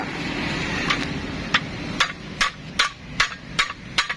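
A hammer strikes a metal part during replacement of a pineapple gear in a workshop, about eight sharp, evenly spaced knocks over a steady mechanical background noise.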